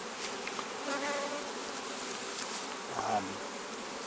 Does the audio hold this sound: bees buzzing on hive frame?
yes